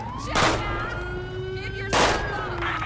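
Two sharp gunshots a second and a half apart in GTA 5 with the LSPDFR police mod, loud and close over a wailing siren tone and background game noise.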